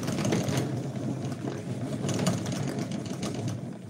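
Thread being rewound quickly onto a spool for handicraft work, a steady whirring, machine-like hum with faint rhythmic ticking, running close and continuous with no talk.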